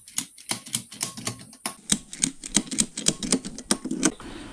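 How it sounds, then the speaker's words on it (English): Bolts being reinstalled to hold down the battery tray of a lawn tractor during a LiFePO4 battery upgrade, heard as a quick string of sharp metallic ratchet clicks close by, steady and rhythmic, with no talking. "Now I'm reinstalling the two hold-down bolts for the battery tray"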